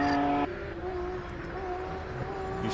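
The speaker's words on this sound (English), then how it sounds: "You feel the anti-lag in that car, and you feel it through your bones." Hillclimb race car with anti-lag at the Simola Hillclimb, a steady loud engine drone with strong harmonics that drops in pitch after a brief high-revving start, with crackling texture throughout.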